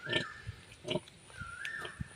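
Pigs on a farm in Assam grunt and squeal in several short bursts, a few close calls spaced across a couple of seconds, with a faint background tone.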